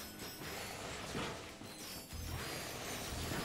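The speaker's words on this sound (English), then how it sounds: "It's time to collect all these bolts." Bolts get collected in the PS4 game Ratchet & Clank, a dense clattering metallic jingle of pickups layered over game music and effects, continuous and moderately loud.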